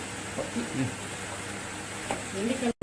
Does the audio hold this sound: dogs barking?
no